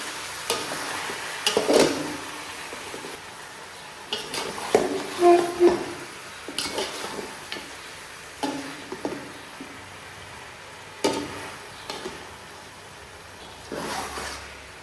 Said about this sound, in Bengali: চিকেনটাকে এভাবে কষিয়ে নেব।